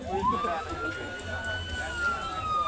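Sirens of several ambulances arriving at an emergency-response drill during a line workers' rodeo, a rising and falling wail sweeping over steady traffic rumble, with voices talking underneath.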